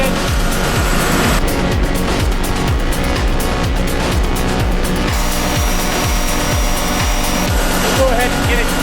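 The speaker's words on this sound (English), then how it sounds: "I'm cutting with my chainsaw if I have to." A chainsaw runs loud and continuous throughout, its engine pitch rising and falling as it revs while cutting wood from trees broken by high winds.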